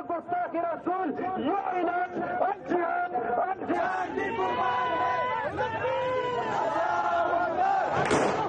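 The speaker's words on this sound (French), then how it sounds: "L'homme est acclamé. La colère monte." A crowd at a Pakistani protest over flag-trampling and blasphemy roars and chants angrily, a dense, loud wall of shouting voices with rising cries and a sharp burst of yelling near the end.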